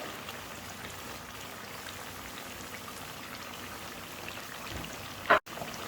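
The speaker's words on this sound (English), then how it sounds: "Now we will fry it like for about 5 minutes." Chicken fries in a karahi with garlic and ginger, giving a steady, even sizzle like light rain. A brief clatter sounds near the end.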